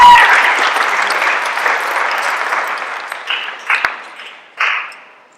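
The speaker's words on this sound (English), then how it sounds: "So let's give him a round of applause." Audience applause fills a wrestling awards banquet hall, a dense burst of clapping that gradually thins out and fades, with a few scattered late claps near the end.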